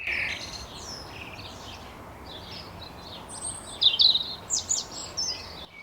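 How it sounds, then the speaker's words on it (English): Robins, blue tits, grey tits and finches chirp and sing around a garden bird feeder, with scattered bright calls over soft background noise that grow busier and louder toward the end. "I can see robins up in the tree, and all the blue tits, the grey tits, they're just beautiful just to see them, all the finches"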